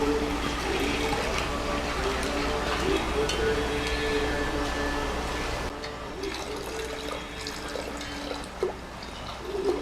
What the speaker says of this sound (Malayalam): ഇനി നമുക്ക് പാല് ചേർക്കാം കേട്ടോ